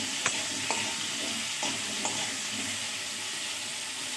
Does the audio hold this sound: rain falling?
no